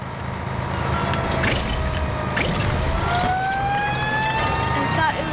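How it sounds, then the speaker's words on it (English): A fire truck siren in the Lego City Undercover video game wails up and down over rumbling engine noise and clatter, loud and continuous throughout. "You finally found a fire truck. Hear my siren?"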